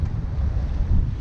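Gusting wind roars over a microphone aboard a heeling Bavaria 41 sailboat, a loud rumbling buffet with rushing water underneath and no talk.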